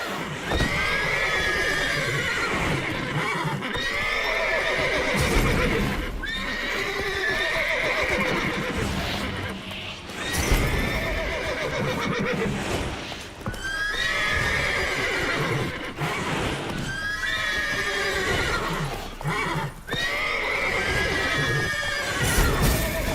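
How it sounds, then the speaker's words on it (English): Horses in The Witcher 3: Wild Hunt whinny and neigh repeatedly over steady clip-clopping hooves, loud and close, with several overlapping calls through a continuous game soundscape. "Gotta calm all the horses before they wake the guards"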